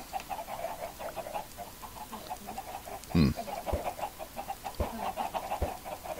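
Chickens in the Minecraft video game cluck in a steady, repetitive stream over a low background, with a sharper thump near the middle and a few brief clicks.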